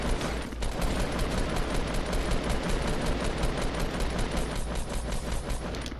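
Dense, continuous rapid gunfire in a multiplayer shooter match, loud and unbroken automatic fire throughout with scarcely any pause.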